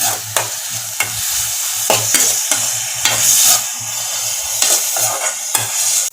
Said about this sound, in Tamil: நல்லா வணக்கி விட்டுக்கோங்க.